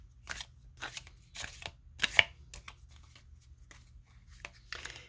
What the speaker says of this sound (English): As I shuffle, I'm asking for insight into the choice currently presenting itself to the collective